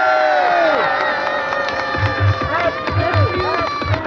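Crowd at an outdoor youth festival show cheering and whooping loudly, with shouts and children's voices and rhythmic stamping or drumming underneath.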